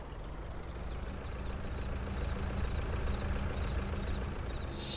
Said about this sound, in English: Oh yeah, tractor hard at work.